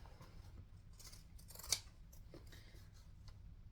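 Scissors trim fabric lining for a sewn bag. Several quiet, close snips come in a loose rhythm, with one sharper, louder cut near the middle.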